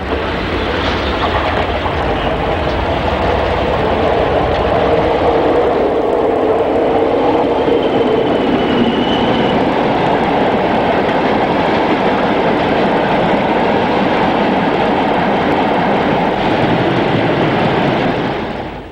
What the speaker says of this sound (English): Also at Craven Arms, 4050 heads a mixed freight in the opposite direction.